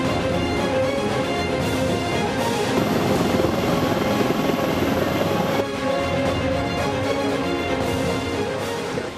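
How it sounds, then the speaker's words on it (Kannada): An army helicopter hovers over landslide rescue work in Wayanad while supplies are delivered, its rotor and engine roar loud, dense and unbroken for the whole stretch, with no voices. "ಸೇನಾ ಹೆಲಿಕಾಪ್ಟರ್ನಿಂದ ಸಂತ್ರಸ್ತರಿಗೆ ಅಗತ್ಯ ವಸ್ತುಗಳನ್ನು ಪೂರೈಸಲಾಗ್ತಿದೆ"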